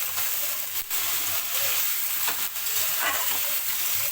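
Chili, eggplant and potato fry in a pan with a steady, dense sizzle that stays close and continuous throughout, with occasional faint scrapes of stirring.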